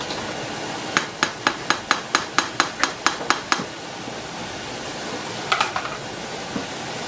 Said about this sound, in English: Just combining all of our dry ingredients.